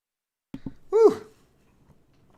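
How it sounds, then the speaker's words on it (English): A single sharp human sneeze, a quick intake followed by a loud burst up close, then silence. "sneezing my brain out there."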